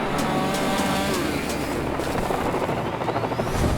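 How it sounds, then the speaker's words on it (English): A firefighting initial attack crew's helicopter in British Columbia runs loud and close, a steady whirring engine and rotor drone with faint rhythmic blade pulses throughout. "Two of us launched in the helicopter"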